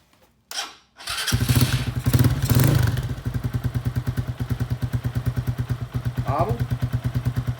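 Lifan KP Mini 150 motorcycle fitted with a KP Mini aftermarket exhaust, baffle in: a starter whirr, then the engine catches and revs briefly before settling into a close, rhythmic single-cylinder idle thump.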